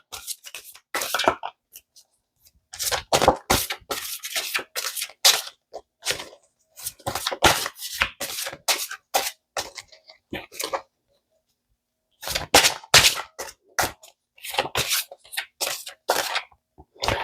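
A deck of playing cards is shuffled by hand, with rapid papery riffling and clicking bursts coming in several bouts separated by short pauses, close and fairly loud.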